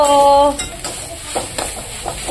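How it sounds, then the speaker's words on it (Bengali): Gourd leaves and other greens tossed in hot mustard oil with black cumin and garlic: a few quick stirring scrapes over a soft, steady sizzle, close up. "এখানে লাউ শাক আর বেঁচে শাক মিক্স করে দিয়েছি শাকটা।"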